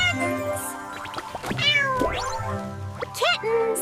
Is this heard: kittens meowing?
yes